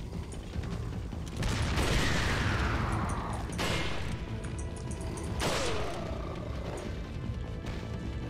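Gunfire in the video game Resident Evil 4, two sharp shots each with a long sweeping mechanical ring-out, loud and close over steady game noise with no talking.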